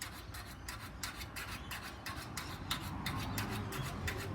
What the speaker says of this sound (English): with your stone, shine up that edge all the way along.